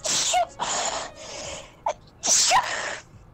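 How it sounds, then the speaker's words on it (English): A person sneezes in a quick string of several loud, close bursts, with sharp breathy intakes between them. "Your sneezes have a bit of a combo effect going to them"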